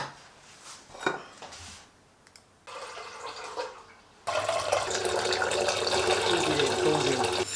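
Water poured steadily into a vessel to brew an herbal antioxidant drink, a liter of water to an ounce of herbs; a continuous splashing pour swells loud and close after a few quieter kitchen handling sounds.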